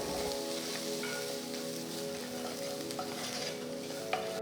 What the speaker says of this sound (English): a piece of coconut finely chopped and a few chopped curry leaves and saute them well